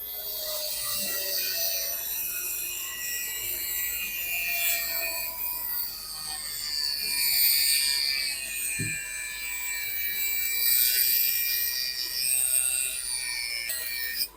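A Uniqual rotary tool cuts through a piece of hard metal wire, giving a steady high-pitched whine with rough grinding and rasping that runs continuously for about fourteen seconds, close and fairly loud, with no talking.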